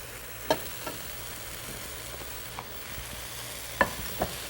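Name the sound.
stirring raisins and powdered spices in hot pan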